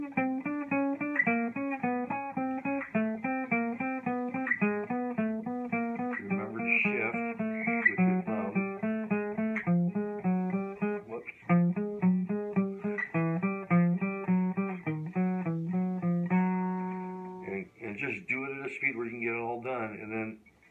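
Guitar plays a pinky-strengthening fingerboard exercise of repeated single notes in a steady, even rhythm, fingering pattern 1-4-2-4-3-4, clear and close with no talk.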